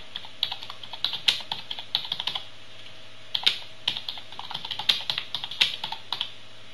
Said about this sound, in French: Voilà, donc là j'ai tapé mon message en bas.